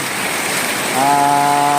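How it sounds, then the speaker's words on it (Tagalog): Heavy rain pours in a dense, steady roar that fills the whole moment, with a sustained tonal hum rising partway through, close and loud with no talking. "biglang lumakas yung ulan"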